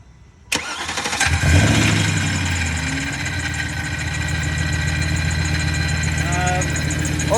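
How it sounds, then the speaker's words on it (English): A 2000 BMW E39 540i with a squeaking belt and starter and pulley trouble cranks briefly, then fires and settles into a steady, loud idle, with a thin high whine running over the engine note. "Only thing we're hearing right now is really the belt squeaking."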